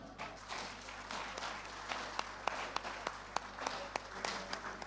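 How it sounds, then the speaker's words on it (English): Audience applause fills a plenary session hall at the Nigerian Society of Engineers international conference, with steady, fairly quiet clapping and sharper individual claps standing out as it continues. "I want another round of applause for Engineer To, who has actually challenged"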